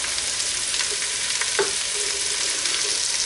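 Jalapenos sizzle steadily in a hot pan, a constant bright frying hiss with faint stirring clicks, close and fairly loud, no voices.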